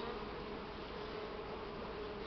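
Bees swarm and buzz around an open beehive as honey supers are added, a steady continuous drone that fills the whole stretch at low level, with no talk over it.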